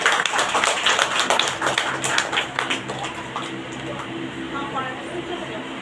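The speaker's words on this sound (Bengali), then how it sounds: "ওদের জন্য জোরে জোরে হাততালি হয়ে যায়।" Audience clapping after a school drama performance of a Rabindranath Tagore play, a loud burst of scattered applause that slowly thins out while a voice talks over it.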